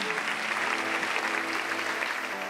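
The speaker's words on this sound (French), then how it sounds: "On peut les applaudir," Audience at a 2021 diploma ceremony in Paris claps for graduates walking onto the stage, a dense, steady patter of many hands filling the room at an even loudness throughout.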